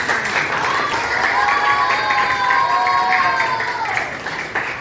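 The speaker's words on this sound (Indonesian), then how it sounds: "Oke, tepuk tangan buat kelas." A classroom of students applauds together, giving a steady wash of clapping that stays even for several seconds. Sustained tonal voices, like cheering or singing, sit over it before it tapers off at the end.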